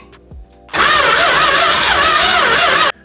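After a brief clunk, a 440 V8 engine in a Dodge Dart Swinger cranks over loudly and steadily for about two seconds, a dense mechanical churn that cuts off abruptly.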